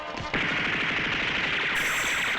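Rapid, sustained automatic gunfire from an enemy's gun in the video game Bloodborne: loud, close bursts hammering in a steady rhythm for the whole stretch, with no talking over it.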